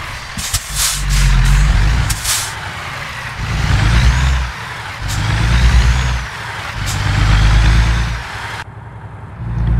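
A Kenworth truck drives in American Truck Simulator, its engine swelling and easing in repeated surges of rumbling acceleration, with sharp hisses and clicks between, loud and close throughout.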